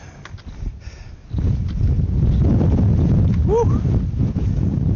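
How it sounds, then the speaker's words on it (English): Strong winter wind gusting outdoors at a wild camp in the UK, a loud, steady roar buffeting the microphone, with a brief exclamation from a voice near the end. "Whoa, that wind, man, would blow you off your feet."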